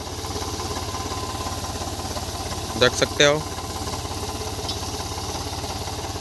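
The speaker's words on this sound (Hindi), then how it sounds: "ये 1000 RPM पे चल रहा है, हाई के फर्स्ट गियर में चल रहा है ट्रैक्टर" An Eicher 485 tractor engine runs steadily at about 1000 RPM in high-range first gear in a field, a continuous low diesel drone throughout, with a brief burst of someone talking over it midway.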